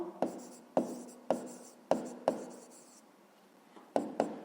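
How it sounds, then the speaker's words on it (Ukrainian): A pen writes an answer on paper for a fifth-grade maths exercise, seven short scratchy strokes in a quick uneven rhythm with a pause near the end, close and quiet with no talking. "Пишемо відповідь."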